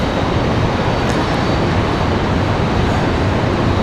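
Airbus A321 airliner at Raleigh Durham airport, a steady broadband roar of jet engines that stays loud and constant throughout, with no talking.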